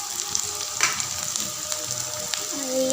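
Two onions fry in a pan for a rohu fish curry, giving a close, lively sizzle with crackling pops and occasional stirring scrapes throughout.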